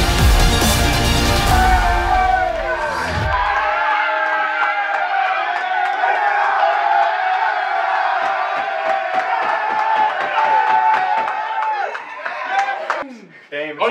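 A college basketball arena crowd erupts into loud roaring cheers and whoops after a dunk, sustained and dense with scattered shouts and clapping, swelling again near the end.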